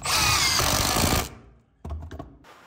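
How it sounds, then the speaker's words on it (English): A power drill drives a screw into wood framing during a ceiling framing fix, one loud sustained whirring burst that stops abruptly, followed by a short quieter rattle of handling. "put that screw in, bud"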